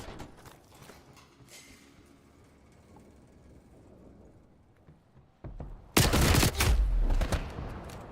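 Battlefield 6 video game gunfire erupts late as a loud, sudden volley of sharp shots after several seconds of quieter rumbling game ambience, with no talking.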